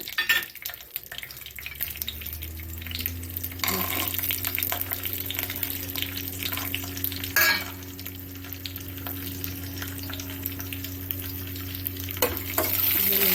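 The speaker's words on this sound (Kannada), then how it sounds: "ಒಗ್ಗರಣೆ ಮಾಡ್ಕೊಳ್ಬೇಕು" Mustard seeds and peanuts crackle and sizzle in hot oil while a spoon stirs the pan, a steady close frying hiss with occasional clinks and scrapes.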